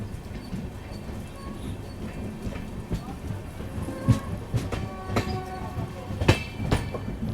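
A passenger train runs through hilly country on the Tirupati to Bengaluru route, a steady rumbling roll with periodic clacks and sharp metallic clanks from the wheels and couplings, close and continuous with no talk.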